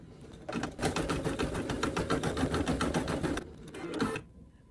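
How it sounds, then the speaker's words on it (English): An embroidery machine stitches a zigzag line on an in-the-hoop needle minder with appliqué, giving a steady, fast mechanical needle clatter for about three seconds, then a brief pause and a short final burst before it stops. "step 7 is going to be the zigzag line, which separates the embroidery side from the sewing side."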